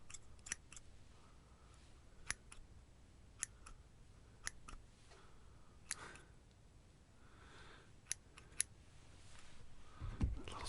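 Scissors snipping through thin puppet strings, a scattering of sharp, quiet clicks spaced unevenly across a hushed, close-miked background, with a slightly louder knock near the end.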